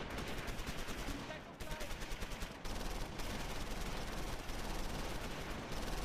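Sustained gunfire from the Close Combat wargame, a dense continuous crackle of rifle and machine-gun fire, including an MG26, with brief dips, steady and loud across the battlefield.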